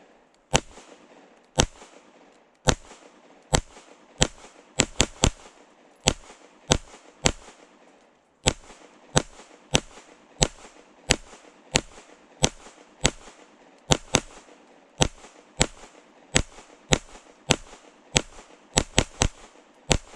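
A Fusion Firearms XF PRO striker pistol firing a string of rounds, loud sharp reports in an uneven but steady cadence at close range with brief gaps, about thirty shots with no voices.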